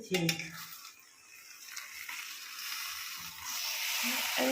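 A spoon stirs a bubbling curry in a pot, making a soft, continuous wet scraping and simmering hiss that grows slightly louder toward the end, with a brief voice at the start and faint talk underneath.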